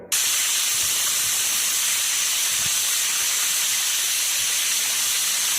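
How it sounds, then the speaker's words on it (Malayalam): A pressure cooker holding pieces of squid with turmeric and salt vents a loud, continuous hiss of steam that starts abruptly and holds steady, close and alone without any talking. "ഒരു പതിനഞ്ച് മിനിറ്റ് പ്രഷർ കുക്ക് ചെയ്യാൻ വേണ്ടി ഞാൻ വെച്ചിട്ടുണ്ട്"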